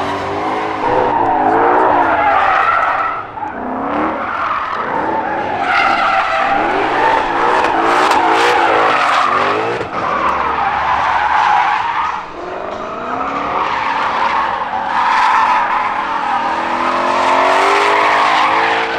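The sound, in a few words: Ford Mustangs drifting with tires skidding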